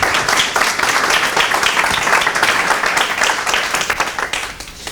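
An audience at a talk breaks into warm applause welcoming Eduardo Montes, president of UNESA, a loud dense clapping that rolls steadily and tapers off toward the end.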